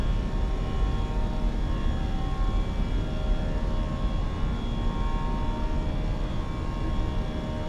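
Airbus A320 engines in a flight simulator game during takeoff and initial climb from London Heathrow, a steady, loud, dense roar with a continuous broadband rumble and faint tonal whine, holding level throughout with no talk.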